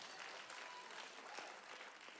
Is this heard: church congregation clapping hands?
yes